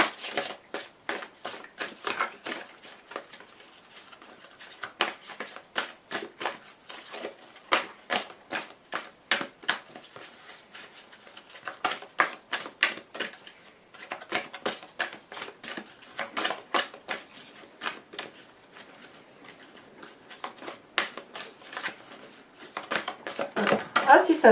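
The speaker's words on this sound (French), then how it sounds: "les cartes sont grandes, c'est assez difficile de les faire sauter" Large tarot cards are shuffled by hand in a long run of rapid riffling and flapping bursts, close and crisp, pausing briefly between rounds while a person talks over much of it.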